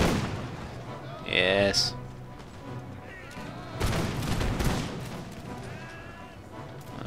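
Musket volleys in the Empire Total War video game crackle and boom in rolling bursts, with distant cannon thuds under a steady battlefield din, while someone talks over it.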